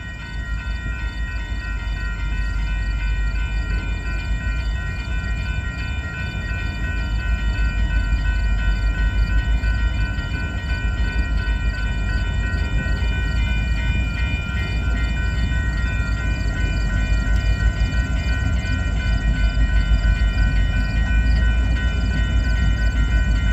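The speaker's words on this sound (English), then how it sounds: "Union Pacific is the leading locomotive." A long freight train led by a Union Pacific locomotive rumbles steadily past in St Paul, Minnesota, with a loud continuous roar, the rhythmic clatter of wagons and a faint high tonal hum holding throughout.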